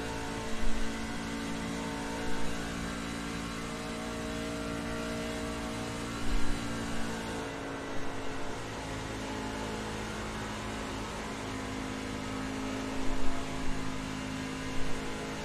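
A race truck at Michigan speedway holding full throttle through a corner, a steady sustained engine drone with a few brief bumps in level, heard alone without talk.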